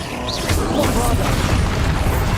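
The Bombarda blasting spell goes off in Hogwarts Legacy, a heavy booming burst with rumbling low-end noise that sustains briefly, and a voice is heard alongside.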